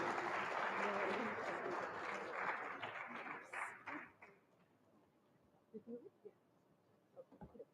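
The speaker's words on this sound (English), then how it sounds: "One more big round of applause to the amazing Korean dance group." An audience at an interfaith harmony celebration applauds a Korean dance group, with loud sustained clapping that fades out after about four seconds, followed by a few faint scattered sounds.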